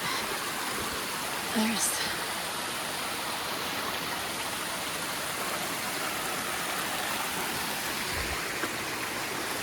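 Hardcore Cascades, a waterfall on the Appalachian Trail, pours in a steady, broadband rush close by, with a person briefly speaking over the water.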